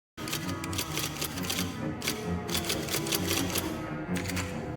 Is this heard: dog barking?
no